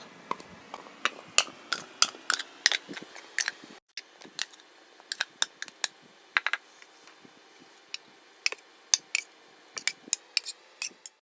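A utensil stirring salak and orange fruit pieces mixed with mayonnaise in a bowl, giving irregular close, crisp clicks and taps in quick clusters with a short pause midway.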